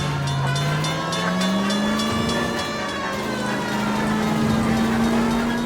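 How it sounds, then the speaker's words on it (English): The 1110 University streetcar in the game L.A. Noire speeds along during a police chase, giving a loud rolling rumble with a steady drone that slides upward in pitch, plus sharp, whining metallic tones from the wheels. "In pursuit of suspect aboard the 1110 University streetcar."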